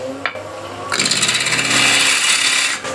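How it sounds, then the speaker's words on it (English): Wood spinning on a lathe while a ball gouge cuts into it, a rough scraping hiss that starts abruptly and holds steady at close range for a couple of seconds. "so again, I'm using a ball gouge."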